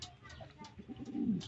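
Racing pigeons cooing softly, a few low throaty coos rising toward the end over faint background noise.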